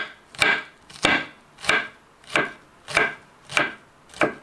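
Knife finely chopping shallot on a cutting board: seven evenly spaced, sharp chops about two-thirds of a second apart, close and clear with no talking.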